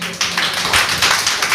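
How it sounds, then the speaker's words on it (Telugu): A church congregation claps together at a Sunday worship service, a short burst of dense, loud hand-clapping with quick repeated slaps close by. "ఒకసారి గట్టిగా చప్పట్లు కొట్టండి"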